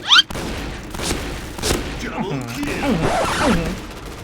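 Shotgun blasts from an M1887 in the shooting game Point Blank, several booming shots and mechanical racking sounds spread over a few seconds, heard under an excited player's talk.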